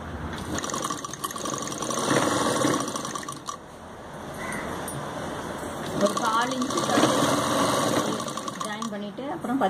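A sewing machine stitches kameez side pieces together in two long runs of fast mechanical whirring, close and steady, with someone talking over it.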